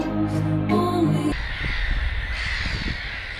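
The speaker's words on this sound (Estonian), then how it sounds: "Linnud, kajakad, naerukajakad." Black-headed gulls give a run of harsh, laughing caws up close, starting after a brief stretch of music and carrying on in repeated bursts.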